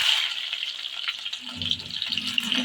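Chopped onion hits hot soybean oil, a bright steady sizzle that thickens into louder crackling frying partway through, close by with no talk.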